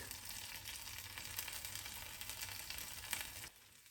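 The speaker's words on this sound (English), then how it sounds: "with our sauce simmering nicely" Tomato sauce simmering in a pan for eggs in purgatory, giving a steady, soft sizzling and bubbling hiss with faint pops that stops abruptly near the end, with no voices.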